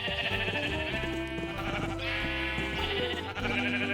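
Sheep in Minecraft bleating in overlapping, repeated calls against steady game music, fairly close and clear with no talk.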